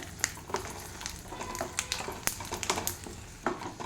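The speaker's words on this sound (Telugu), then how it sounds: "ఈ ఆయిల్లో ఎండి ఎండిన మిరపకాయలు వేస్తున్నానండి ఇవి మంచిగా ఫ్రై చేసుకోవాలి ఆయిల్లో" Dried red chillies frying in oil in a pan for a spinach chutney, giving a soft crackling sizzle broken by irregular sharp pops and spatters, with an occasional light clink of a utensil.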